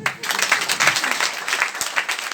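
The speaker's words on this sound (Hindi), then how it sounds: "ताली बजा दो।" Audience at a Hindi network-marketing seminar breaking into applause, a dense, continuous patter of many people clapping in a hall, fairly loud and close.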